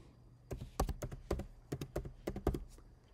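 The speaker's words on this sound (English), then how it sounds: "So let's just type oil painting." Keys clatter on a computer keyboard as a short text prompt is typed, a quick irregular run of distinct clicks and thunks, close and clear over a quiet background.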